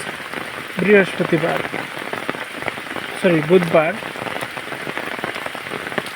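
Heavy rain pours down in a steady, dense hiss throughout, with a voice speaking briefly over the downpour.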